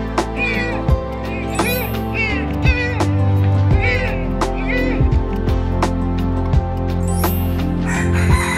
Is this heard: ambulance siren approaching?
no